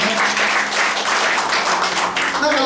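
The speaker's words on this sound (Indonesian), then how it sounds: "Kita berikan tepuk tangan." A church congregation applauds together in a sustained, dense burst of clapping that fills the room evenly from start to finish.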